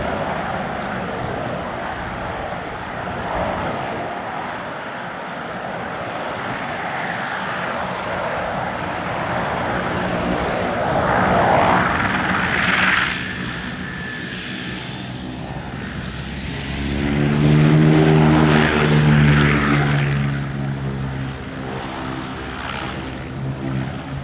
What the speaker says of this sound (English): It's a turboprop plane.